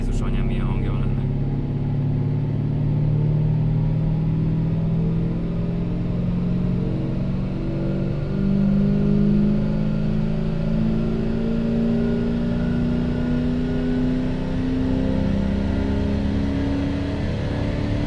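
A car engine on a dynamometer, its steady rumbling drone slowly climbing in pitch as the revs rise across a long run, loud and close, with voices speaking over it.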